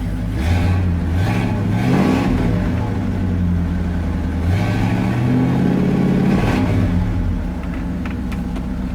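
A 1968 Ford Thunderbird Landau's deep, rumbling big block engine revs up and settles back down twice, loud and close, the pitch climbing with each throttle blip before dropping to idle.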